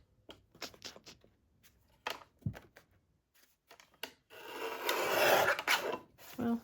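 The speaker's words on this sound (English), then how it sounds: "I'm gonna use a paper trimmer just because I think that's gonna give me the best chance at having a straight line" A paper trimmer slices through brown paper lunch bags: a few light scrapes and taps, then a loud, rasping cut that lasts about a second and a half, close up.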